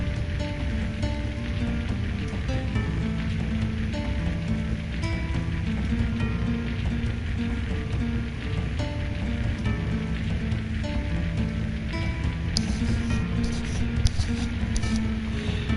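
Steady rain falls on a surface, a dense unbroken wash of patter holding at an even level throughout, with faint tonal music from a game running underneath.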